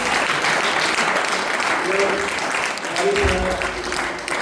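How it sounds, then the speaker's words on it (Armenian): Audience applause at a church worship service welcoming performers, a sustained crowd clapping with a voice speaking over it. "Եկեք մեկ հատ ծափարություններով ողջունենք"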